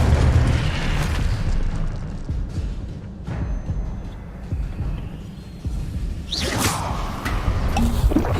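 A fire spell cast in the video game Hogwarts Legacy, heard as a sharp whooshing burst with a boomy low rumble and a brief flare of crackling, amid continuous game ambience.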